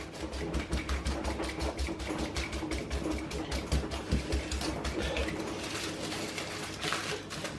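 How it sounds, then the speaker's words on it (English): A sweet corn holder pierces pork belly skin over and over, giving rapid, even tapping pricks in a fast steady rhythm at close range, with no voices. "all I'm doing is piercing that skin so that the salt can dry it out after"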